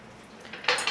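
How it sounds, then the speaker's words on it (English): A utensil clinks and scrapes in a bowl of canola oil, lemon juice and garlic powder dressing, quiet at first and then a louder burst of clatter near the end. "Stir that a little bit"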